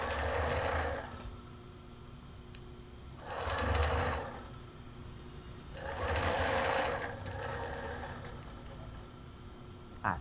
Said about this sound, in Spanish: levanto prensatelas, paso con doble costura